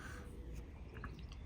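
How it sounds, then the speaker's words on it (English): Crows caw faintly outdoors in the distance, a few short calls over a low background hum, with no talking. "Might hear the birds singing"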